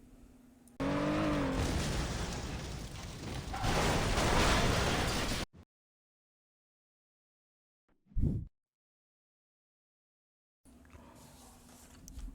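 Race cars street racing in Saints Row roar loudly with revving engines and tire squeal for several seconds, then cut to silence, with a brief burst later and a quieter return at the end.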